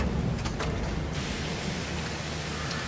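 Steady, hissing rain falls throughout in Farming Simulator 2023, a light morning shower forming a continuous broadband wash with no distinct drops or thunder, heard alone without talk.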